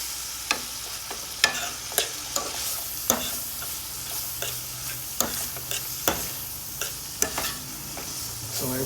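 Ramen noodle casserole being stirred in a frying pan over medium heat, a utensil scraping and clacking in irregular strokes against a soft steady sizzle, close and alone with no talking.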